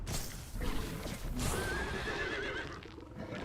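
A horse in the video game Conan Exiles whinnies with a rising, wavering neigh over a busy background of game noise and faint hoof clatter.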